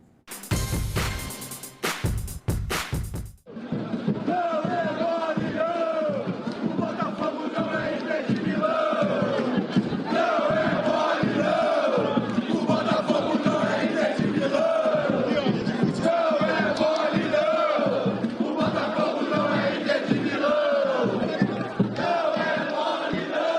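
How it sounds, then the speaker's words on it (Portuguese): Botafogo football fans chant together in a loud, rhythmic crowd song, many voices massed in a stadium-like roar that carries steadily after a brief burst of noise at the start. "Nós vamos fechar esse bloco com o sobe som da torcida do Botafogo"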